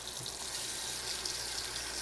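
Hot tap water runs steadily into a sink while a pet fountain filter is rinsed under it, a constant broadband hiss at moderate level with no talk.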